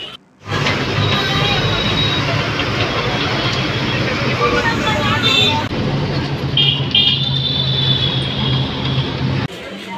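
City bus riding through traffic from Howrah to Sealdah in Kolkata, a steady loud engine drone and road rumble throughout with occasional horn toots, with a voice speaking over it.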